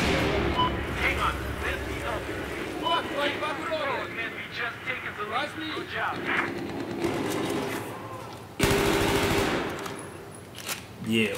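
Machine gun fire in a Battlefield 4 team deathmatch on Xbox One, rattling bursts under a player's talk and humming, then a loud close burst near the end.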